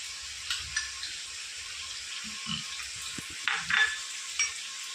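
Ginger and turmeric frying in a pan for a Bengali silver carp fish curry, a steady soft sizzle with occasional stirring clatters and scrapes, fairly quiet throughout.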